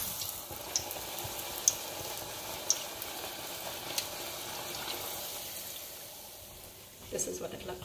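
Doubles dough frying in very hot oil, a steady soft sizzle and crackle with a few small pops, ending in a brief clatter.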